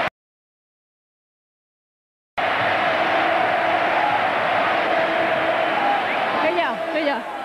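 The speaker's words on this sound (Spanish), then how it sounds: "esta es la ovación." Stadium crowd roaring an ovation as Mijatovic leaves the pitch during a Real Madrid versus Barcelona league match, a broad, sustained roar of a huge crowd that starts abruptly after a silent gap and holds steady.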